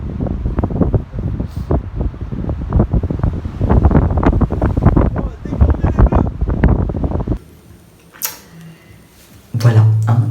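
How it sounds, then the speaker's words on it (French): Strong sea wind in Corsica blasts the microphone in heavy, loud rumbling gusts for several seconds, then drops to a quieter lull before one more sharp gust returns. "le vent soufflait à je ne sais pas combien de kilomètres/heure"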